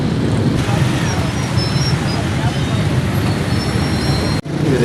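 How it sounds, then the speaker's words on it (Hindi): Steady road traffic on a Karachi flyover, a loud continuous roar of passing vehicles and wind rush with no clear breaks, cutting off briefly near the end. "और ट्रैफिक इस पे भी है।"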